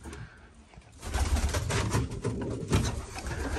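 Pigeons in a winter breeding loft coo softly and repeatedly, low murmuring calls layered close by with faint rustling, no talk over them.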